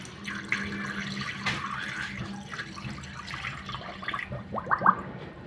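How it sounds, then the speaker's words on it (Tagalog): Cold water is poured into a clogged kitchen sink, a soft running and splashing trickle with a few gurgling drips and bubbling plops toward the end. "Buhos natin itong malamig na tubig."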